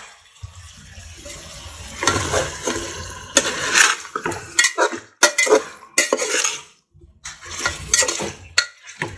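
A utensil scrapes and stirs cooked chicken pulao in a pot, in bursts of rough scraping and clanking separated by short pauses, close and fairly loud.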